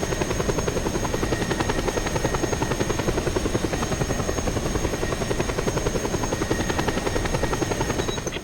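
Loud, steady helicopter rotor noise from the video game Just Cause 2, with a continuous rhythmic chop and whine, close and unbroken throughout, no voices.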